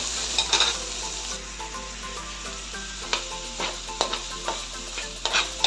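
Garlic frying and browning in a hot pan for afritadang manok, a soft steady sizzle with light stirring and utensil scrapes, alone and without talk.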